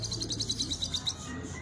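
A racing pigeon repeats a rapid series of high, bright chirping notes close by, steady rhythm for over a second before trailing off.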